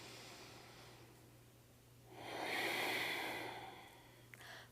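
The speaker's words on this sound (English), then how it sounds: "Let's do one more, deep breathing." Deep breath during a yoga practice session: a quiet, steady background before a single long exhale or inhale swells up near the mic, then fades, with a small click at the end.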